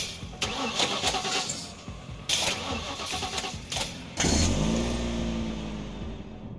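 A car engine starting in the video game The Last Stand Aftermath, with a rough crank and then a loud, steady engine rumble settling into idle, preceded by a few sharp clunks, with no talking.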